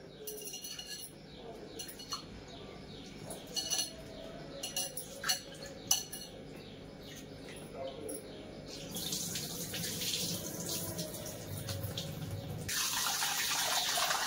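Two hundred fifty grams of rice being washed with clean water in a kitchen. It starts with soft clinks of utensils, then running tap water grows louder and more steady over the second half.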